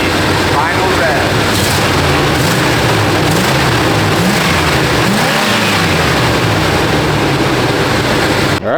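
An old Chevy engine revs loud and close, a rough, steady, droning roar that holds for several seconds with slight swells and no pauses.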